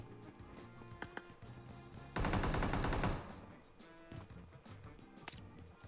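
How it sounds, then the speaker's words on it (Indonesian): Automatic gunfire in the PUBG video game rattles out as a loud, rapid burst of about one second, with a few scattered single shots before and after over quiet game ambience. "Ada nembak."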